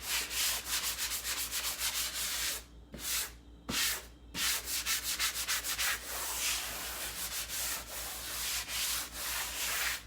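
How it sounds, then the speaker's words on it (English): Steady back-and-forth scraping of a light-grit sanding block smoothing drywall compound over a patched hole, rhythmic and close, with a couple of brief pauses between strokes. "I just will use a sanding block with a light grit on it, and just to smooth it out a bit."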